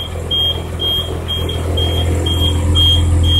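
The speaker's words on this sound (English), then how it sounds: "The noise you're hearing is the parking brake that's set." A bus parking brake warning buzzer beeps steadily in short, evenly spaced pulses over a low idling engine rumble.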